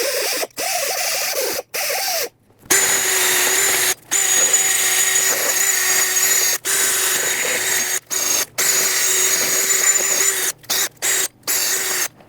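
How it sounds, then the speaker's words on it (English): Wire wheel spun by a drill scrubbing a Subaru Forester brake hub, a steady high whirring grind broken by many short pauses as the drill stops and starts, close and loud. "You can also use a wire wheel on a drill if that's what you have."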